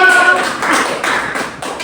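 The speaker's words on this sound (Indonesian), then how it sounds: "beri tepuk tangan untuk Pio" Primary school class clapping for a student in a lesson, a short burst of many hands applauding close and fairly loud, fading in waves over under two seconds.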